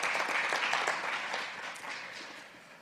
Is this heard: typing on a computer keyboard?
no